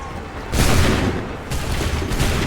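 A gunfire volley in the video game Assassin's Creed III Remastered, two loud, broad booming bursts of massed musket fire, each rolling out for about a second, with no voices.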